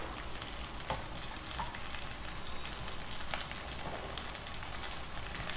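Carrots sizzling and frying in a pan for white sauce pasta, a steady crackling hiss with occasional sharper pops and stirring scrapes, fairly quiet and close.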